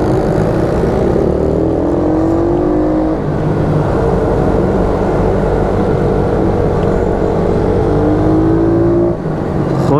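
YCF 88 semi-automatic mini motorbikes race around a Normandy karting circuit, their small engines whining and buzzing loudly and continuously, with pitch rising and falling as several bikes pass close by.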